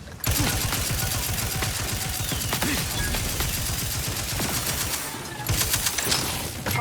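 A stun weapon fires in the video game The Outer World, a rapid, continuous fusillade of sharp crackling shots that runs almost without pause, with a short break near the end before the firing resumes.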